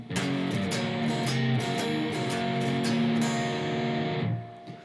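An electric guitar plays the fourth part of a blues shuffle at full tempo, with quick repeated strokes on the bottom three strings, close and loud, ending in a fading ring.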